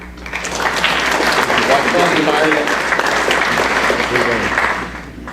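An audience at a Charlotte soccer initiative event claps steadily in a loud, sustained round of applause for Rotary, with a murmur of voices underneath, rising quickly and tapering off at the end.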